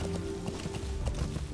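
Horse hooves clip-clop in a steady galloping rhythm while riding through open Afghan countryside in Metal Gear Solid 5: The Phantom Pain, close and moderately loud over a low game soundtrack hum.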